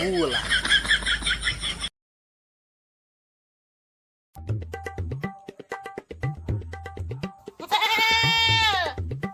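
Goats bleating at a rural village home, a wavering bleat at the start and a longer rising and falling one near the end, with people talking in between after a brief gap of silence.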